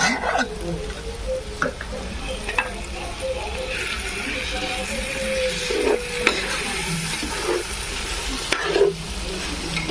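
Chicken being stirred into frying onions in a pot for village-style chicken dum biryani, a steady sizzle with scraping spoon strokes and occasional clanks, under a speaking voice.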